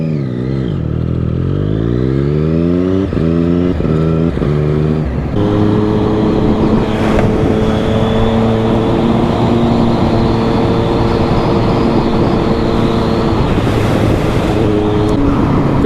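A Triumph Street Triple R motorcycle engine revs up through several rising gear shifts, then settles into a loud, steady roar with wind noise, heard close.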